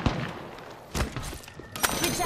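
Scattered gunshots from a match of the battle royale game Apex Legends, a few sharp cracks spaced across a couple of seconds over a busy game background.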